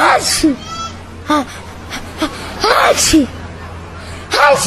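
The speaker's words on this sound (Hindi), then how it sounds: "तेरी छींक हमेशा चालू रहती है क्या?" Several short, sharp sneezes burst out amid children's voices and chatter, loud and close, spaced irregularly across a few seconds.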